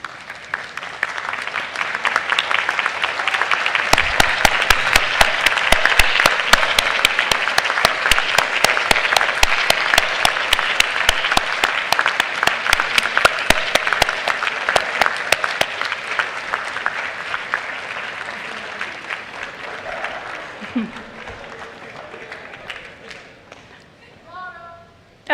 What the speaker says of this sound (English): show your appreciation for the people who have supported you with a loud round of applause